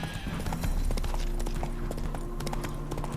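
Roach, a horse in The Witcher 3, clip-clops at a steady walking rhythm. The hoofbeats are close and mixed with a whinny, low ambient tones and faint background voices.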